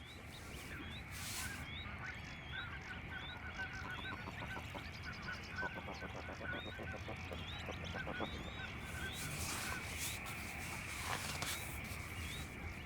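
Geese honk repeatedly in a marsh in the Dutch Oostvaardersplassen, a dense chorus of overlapping calls carrying over a constant outdoor hiss, some nearer and louder, with no voices.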